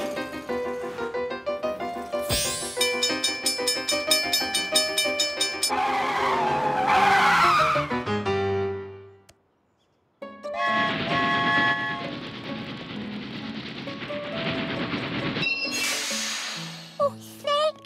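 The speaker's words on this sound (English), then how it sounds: "but there's traffic" Cartoon traffic with car tires skidding, a busy stretch of screeching tires, horns and engine effects, then a brief silence before another burst of skids and honks.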